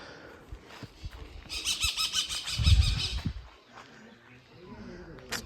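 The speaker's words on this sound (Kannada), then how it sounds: "ಬರೀ ಪಕ್ಷಿ, ಮರ, ಗಿಡ ಅದೇ ಶಬ್ದ ಕೇಳುತ್ತೆ" Birds chirp in a bright burst amid quiet countryside coffee and areca plantations in the Malnad region, near Shettihalli, with faint rustling and a low thump partway through. People can be heard talking softly.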